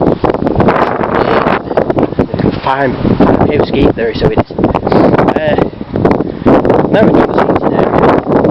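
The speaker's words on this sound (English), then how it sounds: "it's absolutely windy as anything today" Strong wind buffets the microphone outdoors in an allotment garden with a constant roar and rumble, while someone talks over it throughout.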